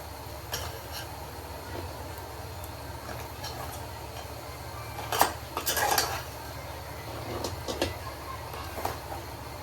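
A spoon stirs crab masala in a cooking pot at home, producing scattered metallic clinks and scrapes against the pot, with a cluster of louder knocks midway over a low background hum.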